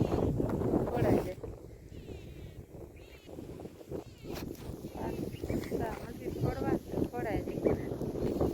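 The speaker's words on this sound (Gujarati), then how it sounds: "પવન છે" Wind gusts buffet the microphone outdoors on a cloudy morning on a farm, rumbling unevenly under steady conversation throughout.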